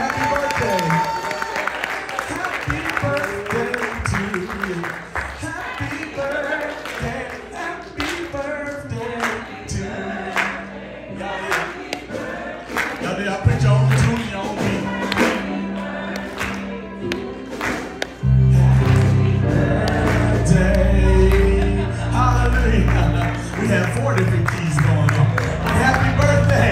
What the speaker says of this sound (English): Stand up and clap your hands and say happy birthday.